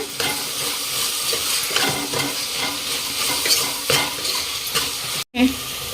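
A spoon stirs chickpea biryani masala with chilli powder and garam masala in a frying pan, scraping and clattering over a steady sizzle of frying, close up, with a brief sharp break near the end and no speech.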